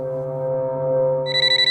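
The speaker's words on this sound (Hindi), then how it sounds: "तभी इंस्पेक्टर को एक फोन आता है।" A telephone rings in a Hindi cartoon horror story, a steady electronic ringing tone that turns into quick pulsing trills near the end, with no voices.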